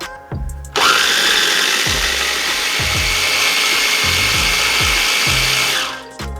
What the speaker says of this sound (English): I'm going to be using a food processor.